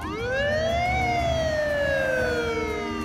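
Police car siren from a kids' traffic cartoon: one loud, steady wail that rises in pitch for about a second, then slowly falls, sounding alone with no talk.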